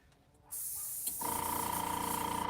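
An airbrush spraying water through to clean out leftover paint: a steady close hiss starts abruptly, then a fine rapid pulsing compressor drone joins and runs continuously underneath.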